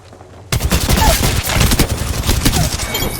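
In a shooter video game, a burst of dense, rapid automatic gunfire starts abruptly and continues as a loud, close, continuous fusillade.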